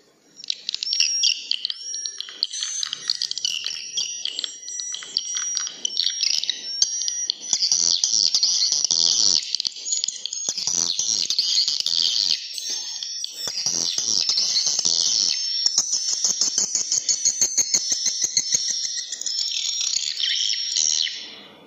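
Dense, rapid high-pitched swiftlet calls, chirping and twittering continuously, sounding electronic and looped through an amplifier and speaker in a swiftlet house, with no voices.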